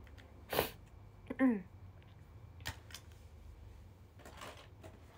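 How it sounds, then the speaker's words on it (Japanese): A single sharp sneeze in a quiet indoor room during a casual makeup livestream, followed by a few light clicks and small handling noises. "くしゃみ"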